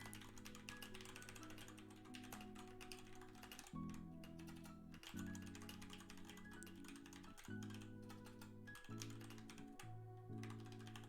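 Rapid, continuous clicking of a computer keyboard during a typing race, soft and steady over a low tonal background hum, with no pauses in the keystrokes.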